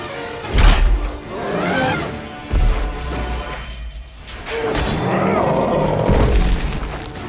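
Cannon fire explodes across a battle in the Assassin's Creed Origins video game: several deep, heavy booms land roughly two seconds apart over a continuous roaring din of combat.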